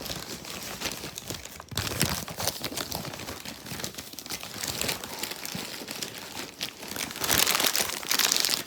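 A plastic wrapper crinkles and rustles in bursts as a sandwich is folded up, close and fairly loud, with no talking.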